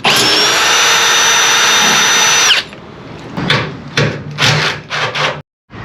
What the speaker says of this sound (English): I drilled it out to the wrong size